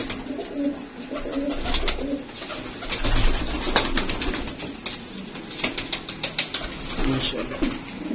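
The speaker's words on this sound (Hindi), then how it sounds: "ये जी उड़े हुए कबूतर हैं।" Pigeons sold as flying birds coo repeatedly at close range, soft rhythmic calls with occasional wing flutters, while someone talks over them.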